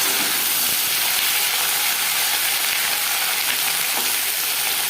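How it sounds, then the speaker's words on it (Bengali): Flat beans hit hot oil with cumin seeds and slit green chillies, giving a loud, dense, continuous close sizzle with no talking. "জিরে লঙ্কা ভেজে নেওয়ার পর দিয়ে দেবো শিম।"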